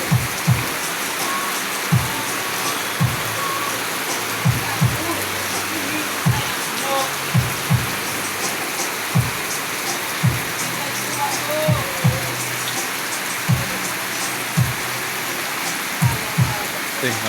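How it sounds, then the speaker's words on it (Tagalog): Heavy rain from a typhoon keeps up a steady roaring wash, while regular soft thumps recur underneath at roughly one-second intervals. "Yan ang lakas talaga ng ulan."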